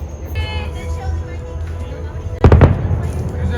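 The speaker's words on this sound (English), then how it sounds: "There was this loud explosion about 9 o'clock." Loud fireworks burst over a Walt Disney World resort at night, a sudden cluster of booming pops and crackles breaking in after a stretch of low outdoor rumble and distant murmur.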